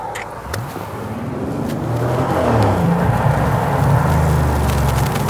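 A Bentley Continental GTC Speed convertible with a twin-turbo W12 pulls away, its engine rumbling low and then swelling into a louder, steadily rising drone as it accelerates close by, with no talking.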